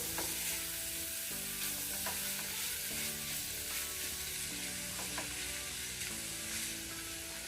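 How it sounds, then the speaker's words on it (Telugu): Paneer bhurji sizzling and frying in a pan while a spoon stirs and smashes it, a steady close crackle with occasional scrapes and taps, and faint music underneath. "ఒక 2 నిమిషాల పాటు వేయించుకుందాము."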